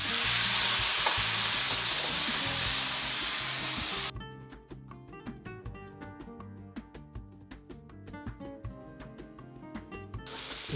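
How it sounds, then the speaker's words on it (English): Flank steak for churrasco sizzling on a hot grill: a loud, steady hiss of frying fat at first, then a quieter crackle with scattered sharp pops and spits, close up, with no talking. "now we're going to grill our flank steak."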